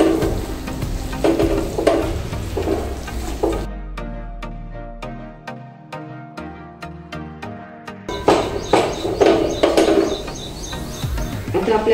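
Wheat flour roasting in a pan on a low flame for shahi modak, heard as soft scraping and light sizzling. A stretch of music with sustained notes interrupts midway before the scraping resumes.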